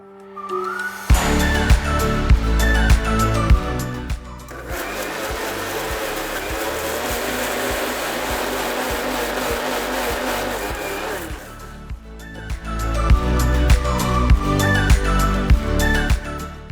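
A kitchen blender whirs through a ragi banana smoothie, running loud and steady with a brief shift in pitch mid-run and strong, pulsing bursts at the start and end.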